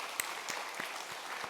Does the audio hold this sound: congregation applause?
yes